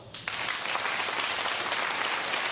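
Audience applause used as a vote at a comedy sketch show, starting abruptly after a brief quiet moment and then holding as a steady, even wash of clapping.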